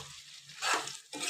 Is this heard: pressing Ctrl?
no